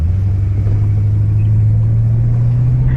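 A classic American luxury car's V8, rated 210 horsepower when new, rumbles under acceleration as a steady low drone heard from inside the cabin, loud and continuous without speech.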